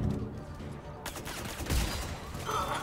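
Gunfire from the video game Mass Effect 3 comes in dense, rapid bursts of shots, loud and continuous over a few seconds, with a brief quieter stretch before a sharper volley.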